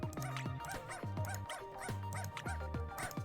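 Small cartoon dogs in the video game Wobbledogs bark and yip in a quick, steady run of about six sharp, pitch-bending barks, fairly loud and close, with game sounds running underneath.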